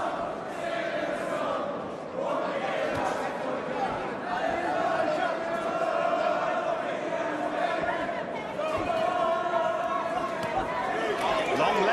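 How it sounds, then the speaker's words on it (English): A crowd of Cardiff boxing fans, some with Bristol accents, keeps up a continuous roar of chatter and encouraging shouts through a bout between Lee Haskins and Ivan Morales, with a commentator speaking over it. "You hear those Bristolian voices in this Cardiff crowd trying to encourage their man."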